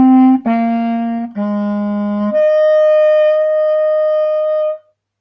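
Solo clarinet playing two slurred measures: a few smooth connected notes stepping down, then a long sustained higher note held steadily before it stops, close and alone.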